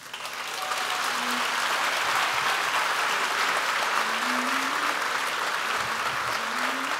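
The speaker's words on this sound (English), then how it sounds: "give yourselves a great round of applause" A large crowd at an awards show applauds steadily for several seconds, the clapping dense and sustained after a quick build.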